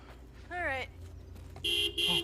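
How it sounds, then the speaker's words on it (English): A car horn honks twice, short bright toots separated by a pause, heard up close with a voice talking nearby. "You're honking your horn at a 10-foot tall lizard monster."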